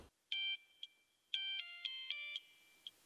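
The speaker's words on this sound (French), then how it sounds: "Il y a moyen on répond à ce téléphone ou pas?" A phone ringtone plays a short melodic electronic tune of clear beeping notes in a halting rhythm, faint and alone, then stops.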